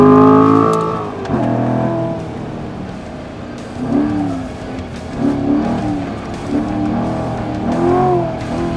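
A 2014 Corvette Stingray at Laguna Seca raceway, its exhaust droning heard from inside the car, with rising and falling engine pitch as it accelerates, shifts and brakes through corners.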